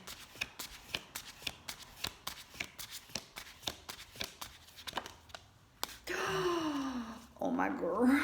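Oracle cards are shuffled by hand in a quick run of crisp riffling snaps for several seconds. A woman then gasps and speaks excitedly over the end.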